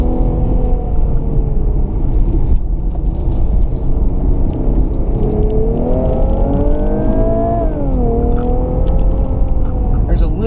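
An Infiniti Q50 Red Sport engine pulls through gear shifts in Sport Plus mode, its harmonics climbing, dipping at a shift and climbing again over a steady road rumble, with no one talking.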